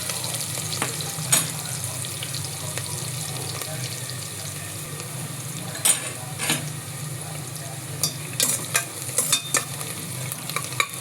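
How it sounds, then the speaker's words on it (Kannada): Onions fry in a pan for chicken curry with a continuous close sizzle, while a utensil scrapes and clatters through intermittent stirring that grows busier toward the end. "ಈರುಳ್ಳಿ ಹಾಕ್ತಾಯಿದ್ದೀನಿ. ಈರುಳ್ಳಿ ಚೆನ್ನಾಗಿ ಕೆಂಪಾಗಬೇಕು."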